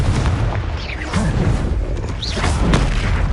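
Confringo fire-blast spells cast in Hogwarts Legacy: a dense, continuous booming rumble of magical explosions with repeated whooshing, crackling bursts, loud and close, filling the whole moment without pause.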